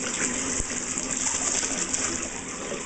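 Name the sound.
water pouring in bath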